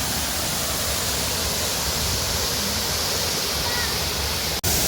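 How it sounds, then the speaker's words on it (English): Waterfall at a forest resort in Ambanoli pours in a steady, dense broadband rush, loud and continuous throughout, with a brief dropout near the end. "I'm just gonna walk up to the waterfall"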